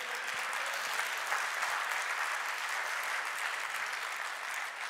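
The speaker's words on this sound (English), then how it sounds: "Now you can clap." Steady, even applause from a church congregation, a continuous wash of clapping at moderate level with no voices standing out.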